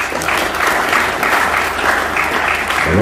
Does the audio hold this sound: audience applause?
yes